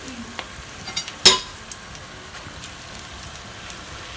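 Mirchi vada, chilies stuffed with masala and thickly coated in besan batter, fry in oil over a medium-high flame, a soft steady sizzle broken by a few light clicks and one sharp clatter.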